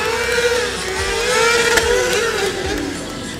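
A 170 kg stunt motorcycle revs loudly at a stunt show, its engine pitch swooping up and down in long sustained waves, close and continuous without speech.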